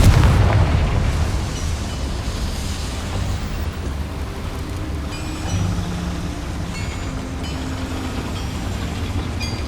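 A boiler blown up by the Confringo spell in Hogwarts Legacy, a loud rumbling blast with a heavy low roar that lingers and slowly fades into debris noise.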